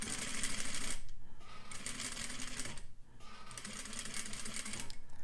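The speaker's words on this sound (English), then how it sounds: "I'm kind of moving the fabric into the needle underneath" Sewing machine stitching bias facing fabric on a garment, a fast close mechanical needle rattle running continuously with two brief pauses, loud and without talking.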